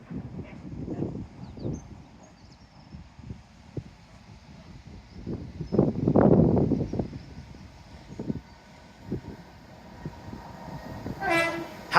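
A train rumbles past nearby with uneven clattering bursts and a louder surge midway, ending in a brief horn blast over the wind.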